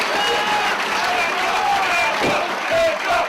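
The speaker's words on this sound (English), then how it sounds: "There's the applause of these fans" Wrestling fans in an arena give a dense, continuous roar of applause and cheering that stays loud throughout, while a commentator talks over the crowd.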